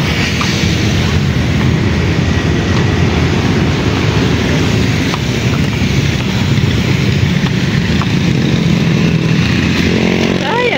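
Many motorcycles pass along a street near Arca South in stormy weather, making a loud, continuous engine drone mixed with wind noise, with faint voices in the background.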